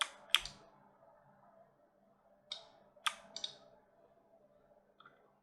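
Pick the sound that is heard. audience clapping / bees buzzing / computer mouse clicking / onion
computer mouse clicking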